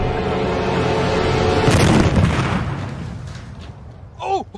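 An explosion sound effect for a sunk cruiser on a game show, a loud deep boom that swells and rumbles away, followed by a brief voice.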